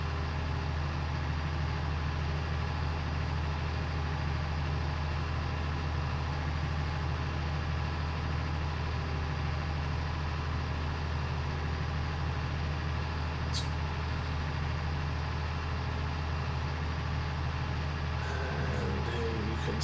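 A tractor engine in Farming Simulator 19, under 200 horsepower, strains uphill pulling a trailer: a steady, loud, droning rumble that holds evenly throughout without a break.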